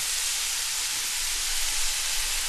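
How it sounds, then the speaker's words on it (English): Crushed fresh tomatoes simmering in a sausage sauce, a steady broadband hiss and bubbling sizzle close up, continuous and even for the whole stretch. "I'm going to add in my fresh tomatoes so they can cook down and work into the flavour."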